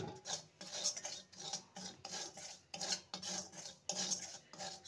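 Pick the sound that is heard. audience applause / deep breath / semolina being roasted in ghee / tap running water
semolina being roasted in ghee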